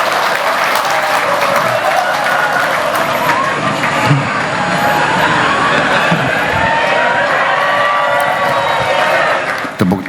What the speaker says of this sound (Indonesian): Tepuk tangannya kok panjang banget.